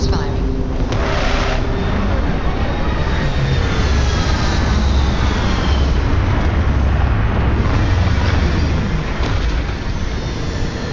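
Spaceship retro thrusters fire during a Starfield landing as a loud, continuous roaring rumble with deep low-end power that holds steady throughout, like a heavy engine blast.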